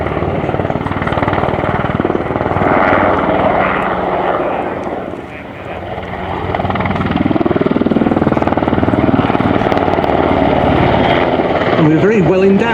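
NH90 helicopter rotor and engine roar nearby at the RIAT 2024 air show, loud and steady, dipping briefly then swelling again, with a voice talking over it.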